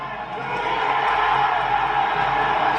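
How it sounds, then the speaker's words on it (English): A football crowd roars as Birmingham score, a steady, loud swell of cheering and whooping from a large stadium audience that builds and holds through the moment. "The biggest cheer of the day."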